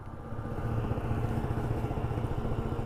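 A stock Yamaha Zuma 50/125 scooter with a fuel tuner runs near and loud while pulling over, its small engine putting out a steady, buzzy pulsing drone with a throbbing rhythm.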